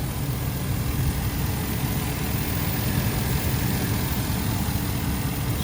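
A 5.4 liter flex fuel V8 engine in a 2014 Ford E-350 box truck idles steadily, a constant deep low rumble with no revving and no other sounds.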